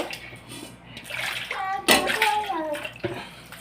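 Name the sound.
child being bathed with water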